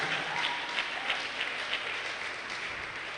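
Audience at a green chemistry and sustainability workshop applauds in a steady, even patter of many hands, moderately loud and sustained throughout, with no voices.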